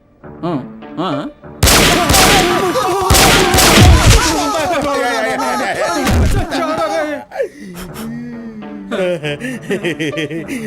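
Gunfire in a dramatic scene from the Telugu film Memory Chip: a volley of loud, sharp shots bursts out over a few seconds, mixed with tense voices and music.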